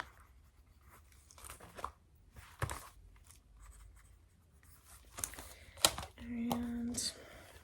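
Pen writing notes by hand on paper, close and soft with brief scratching strokes and taps, under quiet soft-spoken talk in a calm setting.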